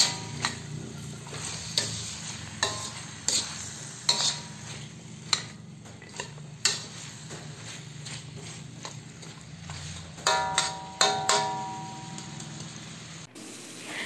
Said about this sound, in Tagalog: Lagyan din natin ito ng konting asin. Haluin lang natin.